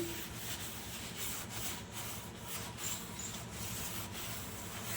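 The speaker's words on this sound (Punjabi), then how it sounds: "ਇਸ ਤਰੀਕੇ ਨਾਲ ਆਪਾਂ ਇਹਨੂੰ ਸਾਰੇ ਪਾਸੋਂ ਚੰਗੀ ਤਰ੍ਹਾਂ ਰਗੜ ਲੈਣਾ ਸਿੰਕ ਨੂੰ" A steel kitchen sink is scrubbed by hand in a home kitchen, a soft continuous rubbing and scratching with rhythmic back-and-forth strokes, fairly quiet and close, no talking.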